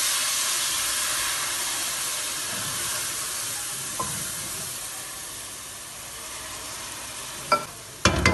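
Okra (bhindi) frying with masala spices in a pan, a steady close sizzle and hiss with occasional scraping clicks from stirring near the end.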